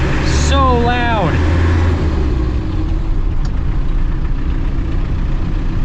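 A classic Land Rover Defender engine drones loudly and steadily from inside the cab while driving, with a deep low rumble throughout and a brief voice near the start.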